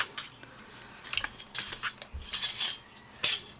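Thin tin-like metal cutting dies clinking and tapping together, a scatter of light, bright metallic clicks and rattles at close range with brief pauses in between and no voices.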